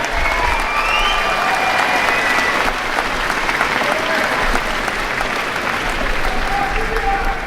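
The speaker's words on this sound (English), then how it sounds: "give a round of applause to those parents, teachers, friends, neighbors who have made an impact in your life" Sustained applause from a high school graduation audience, dense and steady throughout, with a few faint voices and whistles mixed into the clapping.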